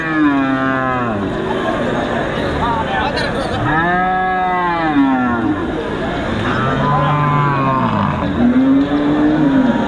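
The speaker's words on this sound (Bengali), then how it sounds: "দর্শক, দেখতে পাচ্ছেন এখানে হচ্ছে আড়া গরু, এগুলো বিক্রি করা হচ্ছে" Several cattle low loudly in long, drawn-out moos, one after another and sometimes overlapping, amid the background bustle of the Hazrotpur cow haat.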